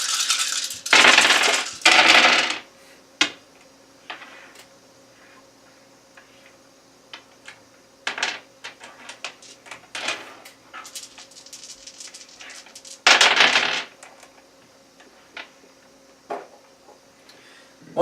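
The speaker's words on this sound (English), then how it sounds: "Then we roll our dice, and Newt's going to try to roll his dice" Dice rolled during a tabletop session of the board game Ashes: Rise of the Phoenixborn, heard as several loud bursts of clattering rattle, with scattered smaller clicks and taps between them.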